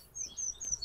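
Faint outdoor birdsong in Southsea, a few thin high chirps and short whistled phrases repeating quickly at a distance, with no talking.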